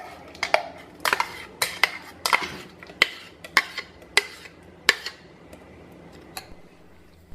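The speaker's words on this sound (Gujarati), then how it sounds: "હવે આપણે એક મોટો મિક્સર જાર લઈશું અને એની અંદર આપણી ક્રશ કરેલી સામગ્રી નાખી દઈશું" Crushed raw mango and mint being scraped into a large steel mixer jar, a series of sharp metallic clinks and taps from a spoon, irregular and close, fading toward the end.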